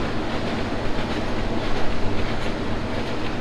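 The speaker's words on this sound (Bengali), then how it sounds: "আমরা হচ্ছে থ্রু পাস করে চলে যাচ্ছি রূপদিয়া রেলওয়ে স্টেশন" A Nakshikantha commuter train on the Khulna–Dhaka run passes straight through Rupdia railway station without stopping, heard from on board as a loud, continuous rumbling roar with steady wheel clatter.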